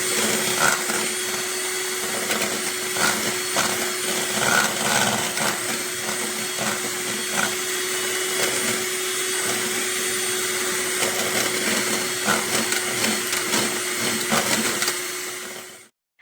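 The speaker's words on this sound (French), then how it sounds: "mettre tous nos ingrédients dans un saladier ou bien un récipient quelconque avant de les battre avec un batteur électrique durant 10 minutes" An electric hand mixer beats ice cream ingredients in a bowl, a loud steady motor whir with a constant hum running unbroken for about sixteen seconds before cutting off abruptly.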